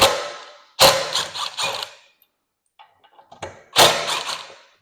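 Door latch being pulled out of the door frame on a Segway Villain, with a few sharp metallic clanks and rattles in two bursts separated by a quiet pause.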